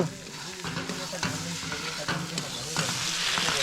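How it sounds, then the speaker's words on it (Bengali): Bottle gourd is stir-fried in a pan with little oil and spice, giving a close sizzle broken by repeated scraping and stirring strokes in an uneven rhythm and no talk. "সাদা সিধে লাউ ভাজা হচ্ছে"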